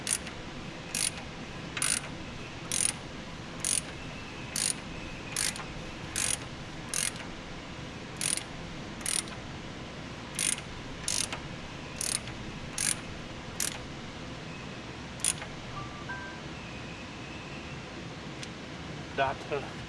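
Rhythmic ratcheting clicks as a Chevy 5.3L V8 in a Silverado is hand-cranked over with a wrench during a cam install, about sixteen evenly spaced sharp ticks close by, then a pause and a few faint scrapes.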